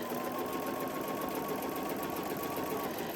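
A sewing machine runs a long, steady line of stitching along the side of a crossbody bag strap, a continuous close whir with no talk over it.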